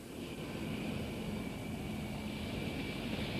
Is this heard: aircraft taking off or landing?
yes